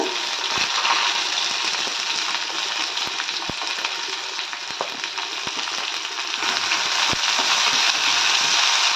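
Finely chopped large onions sizzle loudly in hot oil in a pan for an egg gravy, a steady close frying hiss broken by occasional soft clicks of stirring.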